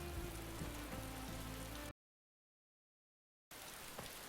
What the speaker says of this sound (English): Oh, now it's gonna rain.